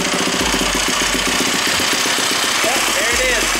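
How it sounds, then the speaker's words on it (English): A Yamaha YZ450F-series dirt bike engine idles with a steady, rapid putter, loud and close, holding an even rhythm throughout. "we'll go ahead and turn on the bike and see if the oil comes out"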